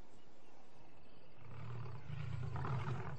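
Lions roaring at night inside a boma, a low rumbling roar building from faint to loud and close over a few seconds, with no talking.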